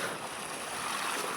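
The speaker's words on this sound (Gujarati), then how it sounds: "પાણી આવવા માંડી છે બહાર" Water gushes out of a pipe filling a tank for cows, a steady rushing hiss that runs without a break and stays fairly close, with no voices.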